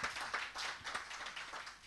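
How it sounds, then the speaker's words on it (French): A studio audience on a French-language television show claps loudly and steadily for an arriving guest, with dense, continuous applause and no voices. "On applaudit très fort s'il vous plaît."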